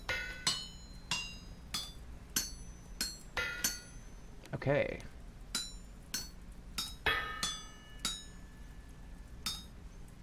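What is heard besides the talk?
wind-powered helve hammer striking in video game Vintage Story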